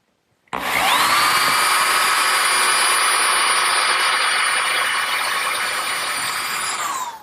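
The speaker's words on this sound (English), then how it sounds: "I'm going to have to pre-drill some holes through the bracket for the nails" A power drill pre-drilling nail holes through a wooden bracket for a garden swing, one loud continuous whine that starts abruptly after a short silence and runs steadily for about six seconds before stopping, no talk.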